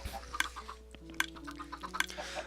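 Chickens in Minecraft, adults and babies penned in a semi-automatic cooking farm, give short repeated clucks and chirps, several spaced bursts over a faint low hum.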